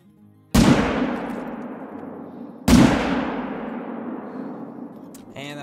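Rifle shots at a lion in theHunter, two loud sharp cracks a couple of seconds apart, each trailing off in a long rolling echo across open terrain.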